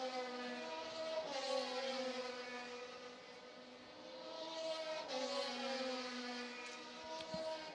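A high-revving open-wheel race car engine at Mid-Ohio drones steadily with strong harmonic tones, rising and falling in pitch as it passes, loud and continuous with no talking.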